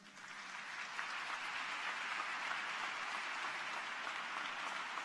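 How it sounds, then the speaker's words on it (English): A crowd at a naturalization ceremony applauds a group of students, a soft, even wash of many hands clapping that swells slightly at the start and holds steady, heard from a distance. "let's give another round of applause to these students."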